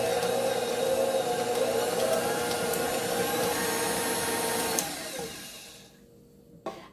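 An electric mixer beats butter for a rum cake, giving a steady, loud whirring hum for several seconds before it winds down and stops, followed by a brief clink.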